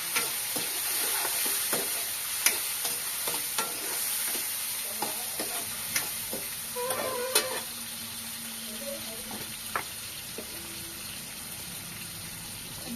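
Garlic and tomato pieces fry in a pan for a village-style curry, a steady sizzle with frequent clinks and scrapes of a stirring spoon against the metal. Nobody speaks.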